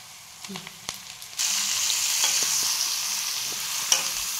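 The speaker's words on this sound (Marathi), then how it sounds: "आता हे भरलेले वांगेत ना, आता हे टाकून घेऊ. आता मस्त मसाला परतलाय आपला." Stuffed brinjals drop into a pan of cooked masala after a few quiet clinks, setting off a sudden loud, steady sizzle that carries on with light stirring knocks close by.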